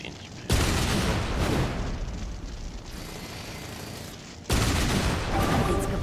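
Cannon fire during an enemy attack in the strategy game Anno 2070: two loud booming blasts with rumbling, crackling battle noise between them.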